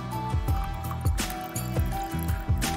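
Matchsticks are dropped and stirred into a container of water, giving soft repeated liquid plops, trickles and gentle sloshing at close range, with no one speaking.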